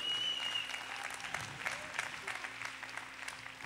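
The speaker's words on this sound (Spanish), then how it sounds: "Denle aplauso a Dios." A church congregation applauds during a Spanish-language service on the prayer of faith, a steady wash of clapping with some voices mixed in, held at an even level throughout.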